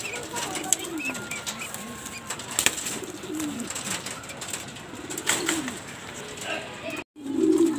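Young racing pigeons in a loft cooing, with soft repeated low coos and occasional wing flutters close by, and faint background noise and a brief pause near the end.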